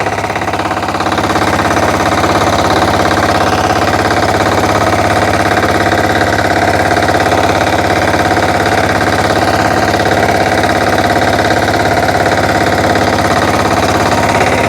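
A walk-behind tractor's engine drives steadily in first gear, a loud, constant close-up drone with a knocking vibration and no change in pace over the whole stretch.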